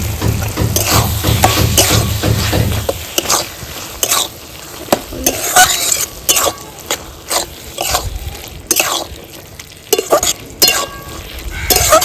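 Water lily stems cooking with ground mustard paste and green chili in a pan, a strong sizzle for the first few seconds, then repeated sharp scraping and stirring knocks at an irregular pace, close and loud, with no talk.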